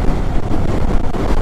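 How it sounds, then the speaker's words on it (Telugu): Strong wind roars across the microphone during a motorcycle ride from Nalgonda toward Ladakh in rain gear, a loud, dense, continuous buffeting rumble with no voices. "గాలి మస్తు వస్తుంది అసలు"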